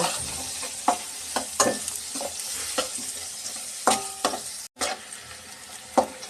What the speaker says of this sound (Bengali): পেঁয়াজটা ভালো করে নেড়ে চেড়ে হালকা করে ভেজে নিব।